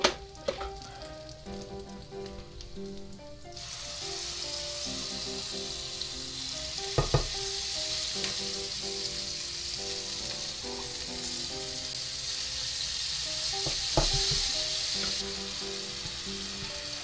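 Food frying in hot oil in a pan while making sambal, a bright continuous sizzle that starts abruptly after a few seconds and keeps going, with occasional clinks and scrapes from stirring.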